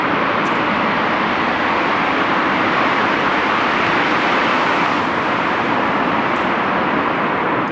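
Cars pass through a tunnel in Komine Park, Tokyo, producing a steady loud echoing roar of engines and tyres that fills the space without a break.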